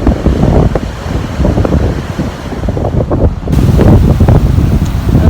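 Strong wind buffeting a microphone outdoors, loud rumbling gusts with a noisy rush that swells and eases, briefly lighter before surging again, no talk heard.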